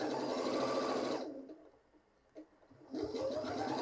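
A Janome 6700P sewing machine runs with a fast, steady whirring hum close by, stops briefly into near quiet, then starts up again.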